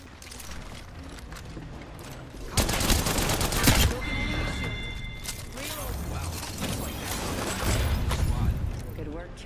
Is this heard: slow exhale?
no